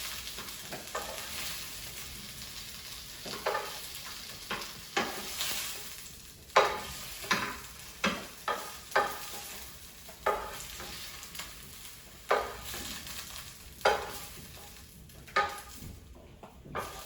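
Zucchini frying in oil in a pan while being stirred, for a ratatouille, gives a steady close sizzle broken by repeated scraping, clattering stir strokes that come every second or so.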